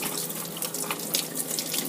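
Warm tap water runs steadily over a makeup brush being rinsed clean in a sink, a continuous close splashing flow with no voices.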